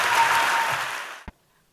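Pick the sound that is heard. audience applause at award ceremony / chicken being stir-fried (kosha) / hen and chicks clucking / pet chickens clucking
audience applause at award ceremony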